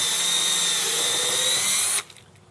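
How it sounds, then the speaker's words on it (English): A power drill whines loudly and steadily for two seconds boring a hole through fiberglass, then cuts off abruptly, leaving quiet. "drill your hole through the fiberglass."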